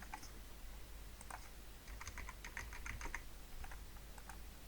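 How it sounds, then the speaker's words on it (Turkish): A password being typed on a computer keyboard, giving a quiet run of close key clicks in short clusters over a steady low hum, with no voice. "Şimdi tekrar yazıyorum"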